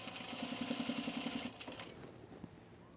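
A sewing machine runs a short, fast burst of rapid stitching over a seam on a V-neck coat, then slows and stops, faint and close.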